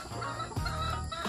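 Free-range backyard hens clucking close by in low, repeated calls, with faint farmyard background and no talking.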